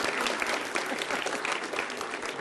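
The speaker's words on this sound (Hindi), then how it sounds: "मगर भगवान राम हो तो ताली बजा दो भाई।" Audience applause in a televised political debate studio, a dense steady burst of many hands clapping together throughout, loud and continuous with no talk over it.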